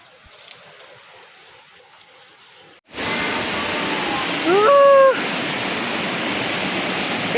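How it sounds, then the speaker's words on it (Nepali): A roaring waterfall in a rural Nepali village, loud and steady broadband rushing that begins abruptly after a quiet stretch and continues without a break, with a brief tonal whistle over it. "बबाल झरना है रामे छापको"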